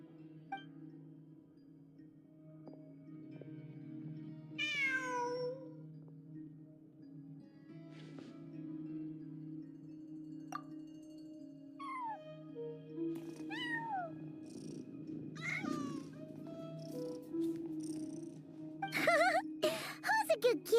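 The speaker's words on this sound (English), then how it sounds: "Who's a good kitty?" A cat in a video game meows several times in short, rising cries over a steady low hum, with soft purring and game ambience beneath and occasional spoken lines from characters.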